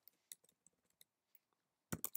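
Quiet computer keyboard typing: sparse, irregular key clicks spread over two seconds, ending in a short, louder burst of several rapid keystrokes, with no voices.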